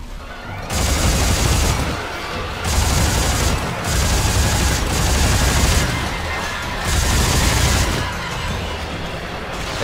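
A newly upgraded weapon fires in the sci-fi horror game Dead Space 3, giving loud, sustained bursts of rapid gunfire separated by short pauses, with someone speaking now and then between volleys.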